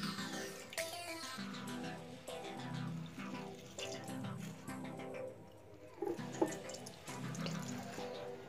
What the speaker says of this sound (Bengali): এবার আমি হাত দিয়ে একটু চেপে চেপে বের করে নেব পানিগুলো।